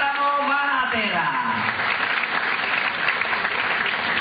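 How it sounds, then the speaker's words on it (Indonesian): An audience at a talk applauds Bante Utamo Mahathira with full, sustained clapping; a voice speaks over the opening moments before the clapping carries on alone at a steady level. "tepuk tangan mulia sekali untuk Bante Utamo Mahathira"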